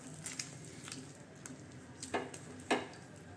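Karachi halwa being stirred with ghee in a pan, giving soft, irregular squishing and scraping, with a few sharper spoon clinks near the end, moderately quiet and without speech.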